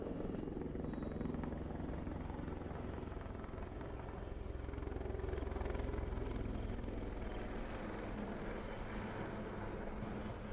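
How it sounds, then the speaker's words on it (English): An ALH naval helicopter flies display maneuvers, spiralling upward, with a steady rotor and engine drone heard from a distance, even and sustained throughout with no talking. "the helicopter is doing a spiral up right"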